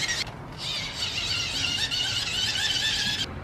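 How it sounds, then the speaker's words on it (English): A supercharger on a Toyota Celica gives off a steady high-pitched whine that rises and holds for several seconds, loud and close, with no talk. "That's what a supercharger sounds like."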